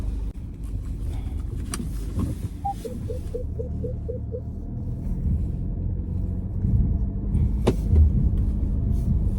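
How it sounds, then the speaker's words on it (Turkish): A Peugeot 3008 struggles to pull away on a snowy mountain road at Uludağ, its engine a steady low rumble heard from inside the cabin, with a short string of soft chimes and a couple of faint clicks over it. "Burada kalkmakta biraz zorlandı araba."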